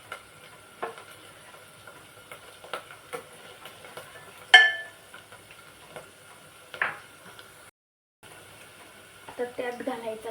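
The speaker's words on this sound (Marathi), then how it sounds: "मिरच्या पण छान तळून द्यायच्या व्यवस्थित" Green chillies fry in hot oil for spicy dal, giving a soft steady sizzle broken by sparse ticks, a sharp clink and bursts of crackling near the end, close and without talk.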